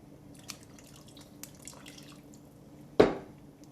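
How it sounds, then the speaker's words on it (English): A single short splash of water poured into a pot of simmering spaghetti sauce with stuffed meatballs, a brief wet burst near the end after a quiet stretch of faint kitchen clatter. "I think I'm going to add a little bit of water."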